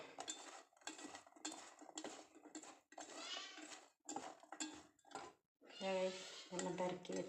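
Bitter gourd pieces are tossed with spices in a dish. Close, intermittent scraping and clinking bursts come in short stop-start runs, with a bleat-like cry near the end.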